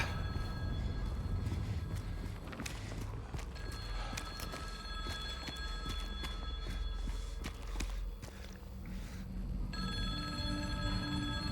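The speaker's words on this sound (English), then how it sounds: "And now there's a phone ringing." A payphone rings in the video game Silent Hill 2, a repeated bell-like tone sounding amid a steady stream of rhythmic footsteps and clatter in a dense, noisy game scene.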